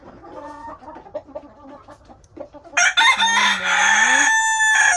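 Farm chickens cluck in a low, steady scatter, then a nearby rooster bursts into a loud, long crow that fills the second half, with more crowing layered over it.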